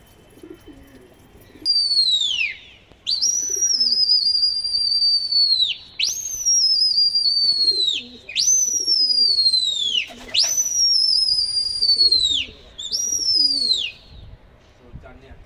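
Pigeons give five or six loud, repeated whistle-like calls, each a sharp rising then falling tone, separated by brief pauses, with soft cooing and faint background noise between them.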